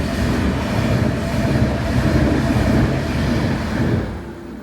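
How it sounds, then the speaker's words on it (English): A train rumbles past a station near a Norman castle and canal, a loud, steady low roar with rattling wheels that stays strong for about four seconds before beginning to fade away. "Oh, the train goes past."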